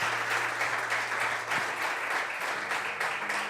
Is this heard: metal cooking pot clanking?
no